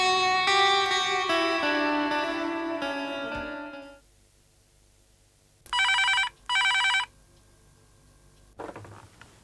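A telephone rings indoors in two short, loud electronic bursts after a fading swell of music, followed by quiet and then a brief rustle.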